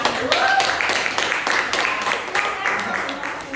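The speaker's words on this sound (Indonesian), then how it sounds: "kita sambut bersama kelompok 1 dengan aplaus ya" A classroom audience gives applause to welcome the first student group before their trigonometry presentation, a steady wash of clapping running through the whole stretch with voices mixed in.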